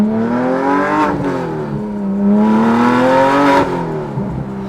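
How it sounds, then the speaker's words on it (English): A Porsche 911 GT3 Touring's 4.5-litre flat-six, manual, revs loudly and close up with a deep, throaty note, surging up, briefly easing, then climbing again through two pulls. "It sounds so much deeper and more throaty than a 4 liter"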